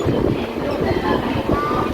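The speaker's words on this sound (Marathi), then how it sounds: "चला गाडी खाली आली चले चला लोकल ट्रेन पकडलेली आहे" A local train rumbles along the rails nearby, a loud, steady low roar with faint rhythmic thumping.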